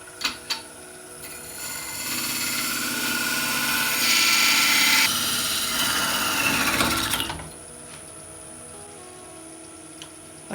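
A wood lathe spins while a tool parts off a turned captive ring piece, giving a steady whirring hum with a harsher cutting rasp in the middle. The rasp stops abruptly as the piece comes free, followed by a few faint knocks.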